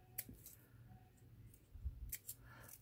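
Scissors snip a few slices into the tabs of a paper firecracker box, quiet close crisp cuts with soft paper rustle.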